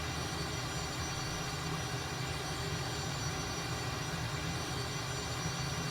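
Twin jet engines of a T-37 Tweet trainer spool up in a flight simulator game, a steady, loud, broadband roar and whine that holds constant throughout with no voices.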